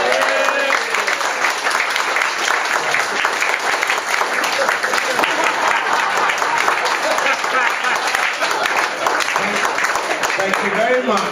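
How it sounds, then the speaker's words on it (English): Audience at a New Year's Eve show encore and closing applauding continuously, a dense, even roar of clapping filling the room for the whole stretch. "All of you, clap yourselves."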